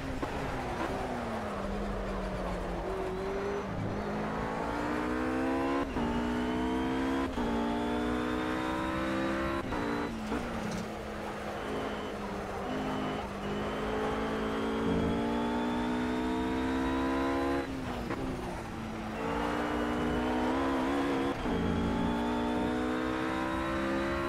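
Race car engine in Project CARS revs hard and steadily through repeated gear changes, a loud continuous whine whose pitch climbs and drops again and again, with no talk over it.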